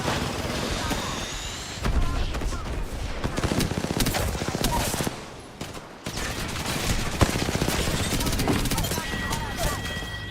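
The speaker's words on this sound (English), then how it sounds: "Opening fire" Rapid gunfire in a battle-royale-style video game, loud bursts of shots stacking into near-continuous volleys with a short pause midway, game voice lines faintly underneath.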